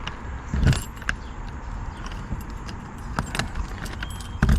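A bunch of keys jangles and clicks sharply against the door lock of an old, long-parked Ford F250 pickup. The bursts come close and loud between quieter metallic rattling.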